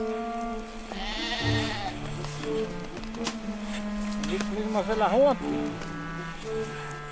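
Sheep bleating in deep snow in the Austrian Alps, several wavering bleats from the flock, some nearer and louder, heard over a continuous narrating voice.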